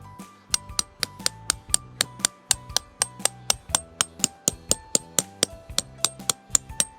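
Rapid, regular metallic strikes, about three per second, ring out close by as a Decathlon Quechua tent stake is hammered into the ground, with a faint low hum beneath.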